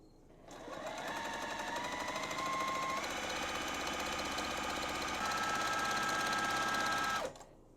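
A sewing machine stitches a quarter-inch quilt seam in one continuous run, a close, steady mechanical whir with a faint tonal hum that starts abruptly and cuts off sharply at the end.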